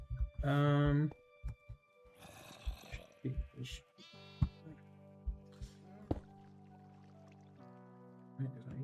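Sheep bleat in a farm-building video game: one loud, close, wavering bleat opens, then scattered clicks and softer tonal game sounds follow, with brief muffled speech-like bits in between.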